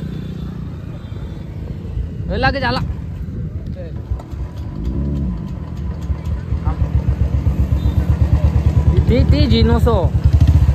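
A motorcycle engine starts up and settles into a steady, close idle with a rapid pulsing throb that grows louder, while people talk nearby.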